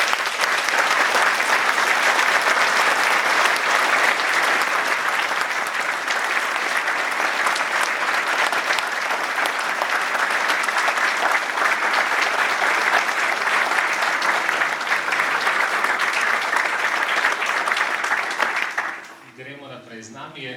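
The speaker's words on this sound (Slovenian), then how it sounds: "si zaslužijo en velik aplavz" Sustained audience applause at a roundtable event in a hall, dense steady clapping lasting about nineteen seconds before cutting off abruptly into quieter room sound.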